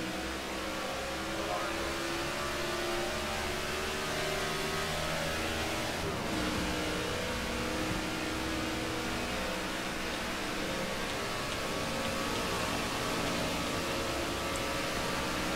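Stock cars roar in NASCAR The Game: Inside Line at the Pure Michigan 400 as the green flag drops for a restart. A dense, sustained wall of engine noise shifts pitch around the middle, with no voices over it.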